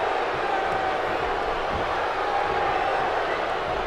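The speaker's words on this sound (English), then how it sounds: "The crowd is buzzing. They're ready for this thing to get underway." An arena crowd in the WWE 2K16 wrestling video game, waiting at a Royal Rumble, makes a dense, steady murmur that fills the whole stretch with no pauses, with some faint cheering mixed in.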